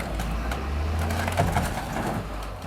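Junkyard car crusher with large hydraulic cylinders folding a car in the middle and smashing it, giving a steady loud grinding, splintering crunch of metal that carries on throughout with no break.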